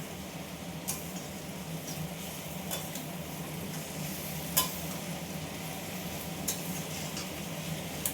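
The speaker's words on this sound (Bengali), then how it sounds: "কুন্দিটা আবার নেড়ে দেবো।" Ivy gourd (kundru) being stirred in a frying pan, a soft continuous sizzle with occasional light scrapes and clinks of the spoon against the metal.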